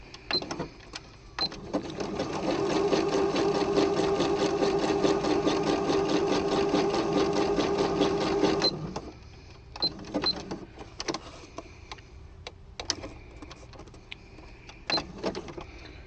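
Sewing machine stitching along the edge of fabric for journaling cards, a loud close steady rattle lasting about seven seconds, followed by clicks and handling sounds.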